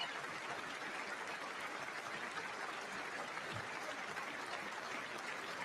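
A Congress audience applauds during a State of the Union address, with steady, sustained clapping throughout that sounds fairly soft and distant, and no voices on top.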